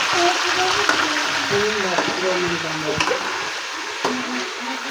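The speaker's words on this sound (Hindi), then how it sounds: "इस तरह हमने इसको फ्राई करना" Chicken fries in a pan with a continuous sizzling hiss, while a person talks over it and a few sharp clicks of a utensil sound.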